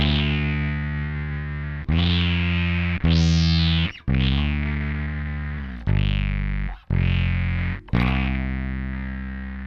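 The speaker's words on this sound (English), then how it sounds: "Which has a cool distorted-like effect to it if we turn our dry volume all the way down." A Boss SYB-3 bass synthesizer pedal in a distorted wave-shape mode with the dry signal turned all the way down plays a loud, buzzy, harmonically rich bass line: several sustained notes with sharp attacks and brief gaps between them, and no voices.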